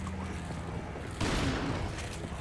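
Rifle fire in Resident Evil 4: a sudden sharp blast partway through, ringing out into a noisy tail over a low game ambience.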